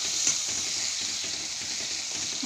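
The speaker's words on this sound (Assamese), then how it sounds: "মই অকণমান সময় মছলাখিনি ভাজি ল'ম।" Red chili powder, turmeric and salt simmer-fry in a pan after a splash of water, a steady close sizzling hiss with faint stirring scrapes and no speech.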